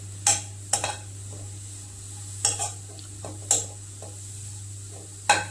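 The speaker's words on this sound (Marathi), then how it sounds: "त्याला व्यवस्थित असं परतवून घेऊया" Grated carrot is sautéed in a pan, with a low background hum under repeated sharp scraping and clinking strokes of a spoon against the metal, spaced irregularly and heard alone.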